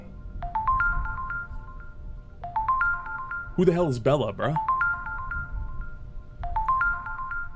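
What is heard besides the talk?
phone ringtone ringing in a video game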